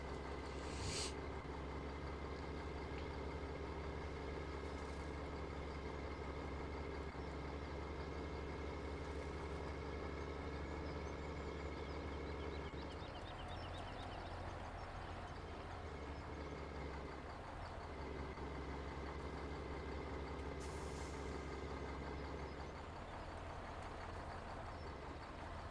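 Logging truck engine idling in Farming Simulator 17, a steady low diesel drone with layered harmonics that holds through the whole stretch, shifting slightly in tone midway, with no talking.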